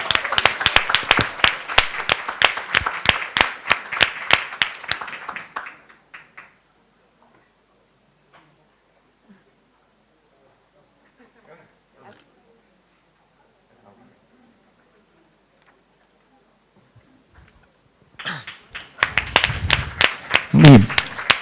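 An audience gives a burst of applause at an Estonian awards ceremony for HR projects. Dense clapping rolls for several seconds, fades into quiet, then picks up again strongly near the end.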